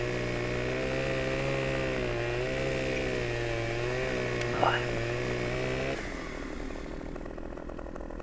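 Chainsaw cutting into a tree in Farming Simulator 15, a steady close engine drone with a faintly wavering pitch that drops and thins to a lower idle near the end. A brief clatter sounds partway through.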